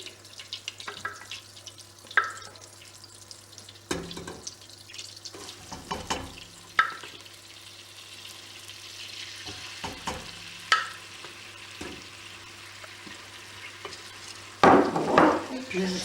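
A spoon scrapes and stirs sauce in a pan with scattered clinks and soft sizzling, close and fairly quiet, ending in a louder clatter.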